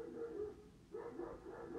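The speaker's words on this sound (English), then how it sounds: "Can you guys hear my dog barking?" An Alaskan Malamute barks indoors, giving two short bursts of muffled bow-wow barking about a second apart that sound somewhat distant and moderately faint, with no talking.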